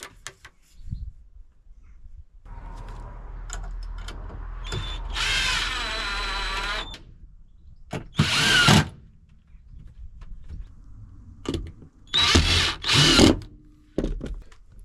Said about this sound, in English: then we'll stick all these screws in.